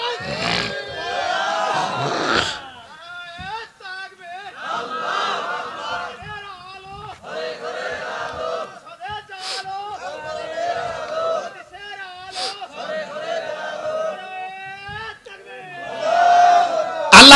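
A crowd at an outdoor religious sermon answers with repeated rhythmic takbir chants, loud massed voices rising and falling in several call-like bursts, with a single voice leading between the shouts.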